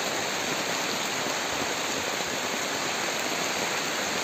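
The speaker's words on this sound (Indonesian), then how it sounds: "tiba-tiba hujan dari arah sana. Itu cukup deras." Heavy rain pours down over a garden plot in a steady, dense hiss, loud and unbroken from start to finish with no other sounds.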